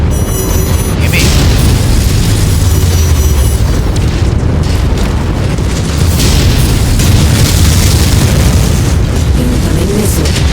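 Incoming missiles explode in MechWarrior 5, very loud booming blasts and rumbling detonations that run continuously and densely over a thick, sustained battle din.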